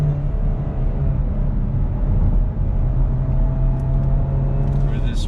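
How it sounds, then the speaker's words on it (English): A 2019 Chevy Camaro with an inline-4 turbocharged engine accelerates under throttle, giving a loud, steady low engine drone with a constant rumbling hum and no talk over it. "Let's go ahead and see how this inline-4 turbocharged engine does its business."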